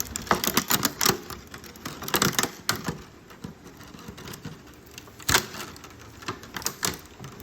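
Crackling, ripping tape being peeled off a McFarlane Toys Game of Thrones deluxe Rhaegal dragon action figure package, irregular close bursts of tearing and rustling with a few sharper snaps.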